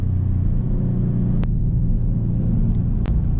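Maserati GranCabrio Trofeo engine while driving: a low, steady rumble from the cabin with a couple of brief sharp clicks, moderately loud and unbroken, no voices.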